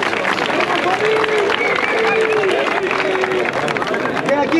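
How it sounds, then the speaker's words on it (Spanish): Crowd at a rap battle, the DEM Individual 2023 competition, breaks into steady applause and cheering, a dense, continuous wash of clapping and shouting that holds loud from start to finish, with voices calling out inside it. "aplauso, aplauso, aplauso"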